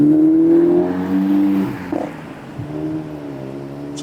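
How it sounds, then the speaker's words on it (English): A car with a loud, worn exhaust revs nearby in a residential street, a deep droning engine note that swells, dips and fades over a few seconds. "Somebody needs a new exhaust."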